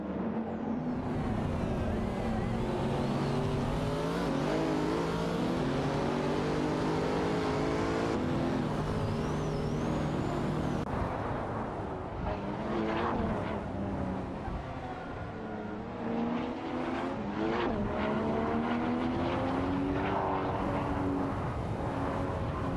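Race cars drive around a track in an AI racing video game, engines droning and whining continuously with pitch shifts as they accelerate and pass, loud and steady with no talk.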